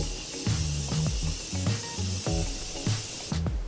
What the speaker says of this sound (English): It's never enough setting spray.